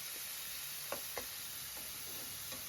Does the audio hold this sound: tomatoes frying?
yes